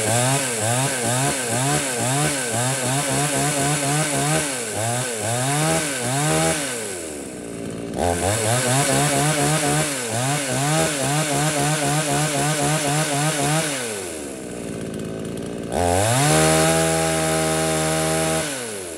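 A used Japanese chainsaw revs steadily, loud and close, rising and dropping in pitch through repeated throttle cycles, idling down twice before another high steady run.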